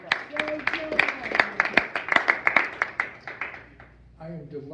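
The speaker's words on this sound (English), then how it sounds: "Give him a round of applause." Meeting audience clapping in a round of applause for a vice president introducing the evening program at a historical society gathering; dense, steady clapping that thins out and fades after about four seconds, with a voice starting at the end.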